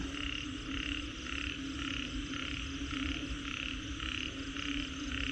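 Large frogs heavy with eggs croak in a dense, steady chorus across a rice field in heavy rain, a pulsing rhythmic drone under constant rain hiss.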